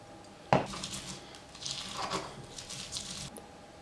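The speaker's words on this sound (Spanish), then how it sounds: "Echamos más aceite de oliva virgen extra y seguimos majando" A pestle works a paste of garlic, fresh parsley and cilantro with extra virgin olive oil in a mortar: one sharp knock, then soft, wet squishing and grinding strokes at close range.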